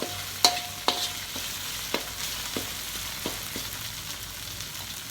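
Pork stir-fried in a pan over raised heat, a spatula scraping and knocking against the metal in sharp, irregular strokes that slowly fade, with soft frying noise underneath and no voices.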